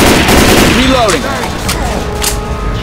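Loud, rapid automatic gunfire from a Left 4 Dead 2 survival match rattles in a dense burst, easing to scattered shots, with brief game voices and effects mixed in.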